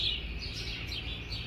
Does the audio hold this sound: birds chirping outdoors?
yes